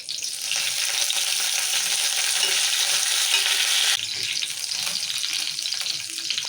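Cardamom pods, a bay leaf, cloves and curry leaves crackle in hot oil for an egg curry, a loud, dense and continuous sizzle that eases slightly partway through as stirring continues.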